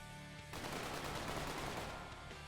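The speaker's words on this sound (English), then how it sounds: "I heard more gunfire." A sudden burst of dense, rapid video game gunfire erupts and sustains for about two seconds, loud and continuous, then drops back to a quieter hum.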